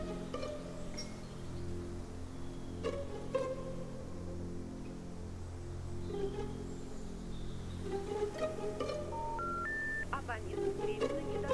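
Telephone being dialed, a series of short electronic keypad tones spaced through the stretch, ending with a quick rising run of beeps, over a steady background hum and occasional speech.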